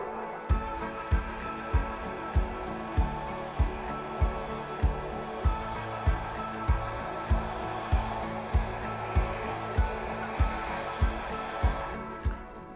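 A hair dryer blows steadily across an acrylic pour painting with a constant whooshing hiss, a regular low thumping pulse running through it about once a second before the airflow cuts off near the end.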